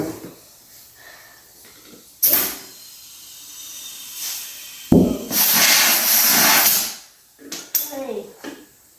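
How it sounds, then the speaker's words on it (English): Air hissing through a valve while something is inflated, several loud bursts of rushing air between stretches of quieter background, with people talking nearby. "We'll put just a little more air in it."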